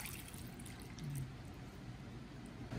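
Water poured into a cooking pot for humba, a steady close trickle and splash lasting a few seconds without voices.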